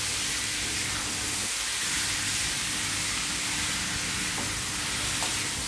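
Chicken mince frying with spices in a pan produces a soft, continuous hiss. It stays steady and fairly quiet for several seconds, with no talking.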